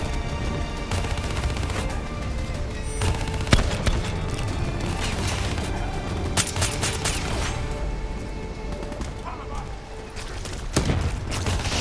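Gunfire in the video game Call of Duty Black Ops 3: dense bursts of rapid shots and mechanical clatter over a constant loud game din, with a player's voice talking over it.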